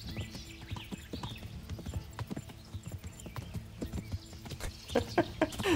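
A horse gallops in Kingdom Come: Deliverance, with rapid rhythmic hoofbeats that pound steadily and grow heavier toward the end, alongside faint in-game ambience.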